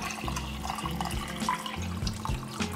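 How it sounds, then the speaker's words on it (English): Ten cups of water pour steadily into a large cooking pot for a Colombian fish-head sancocho, a continuous close splashing and gurgling with a ringing tone as the pot fills. "now we're going to add 10 cups of water."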